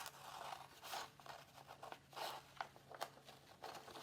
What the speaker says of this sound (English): I'm going to then just use my scissors